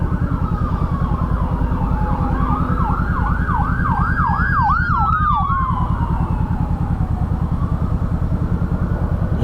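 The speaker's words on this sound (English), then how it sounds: "I hear sirens." Emergency vehicle sirens wailing ahead in traffic during a Honda CB500F motorcycle commute in Houston, Texas, a rising and falling wail that grows louder then fades, over the steady drone of the motorcycle engine and road noise.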